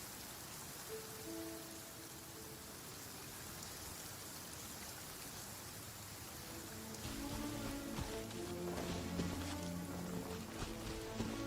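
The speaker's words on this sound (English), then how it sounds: "It's raining again." Steady rain falls in the video game Genshin Impact, a dense hiss of drops that thickens after several seconds. Soft tonal game music plays underneath.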